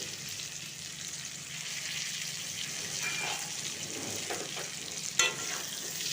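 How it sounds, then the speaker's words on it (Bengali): Potatoes fry with salt in a pan, a continuous even hiss of sizzling oil with faint stirring scrapes and one brief clink near the end. "নুন দিয়ে আলুগুলোকে ভাজবো কিছুক্ষণ আমি ভেজে নেব"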